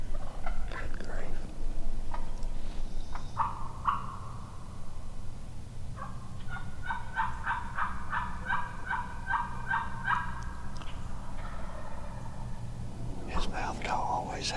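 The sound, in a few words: wild turkey hen yelping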